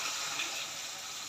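Water poured from a glass into a cooking pot while making Mangochiyan, a steady broadband splash and trickle that runs unbroken for about a second, close and fairly quiet, with no talking.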